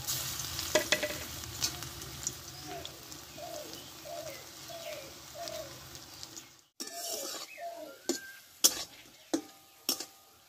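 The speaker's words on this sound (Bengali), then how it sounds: "বাকিগুলো আমি একইভাবে ভেজে নেব।" Radish koftas fry in hot oil with a steady close sizzle, while bird calls repeat in the background and sharp clicks punctuate the end after a brief pause.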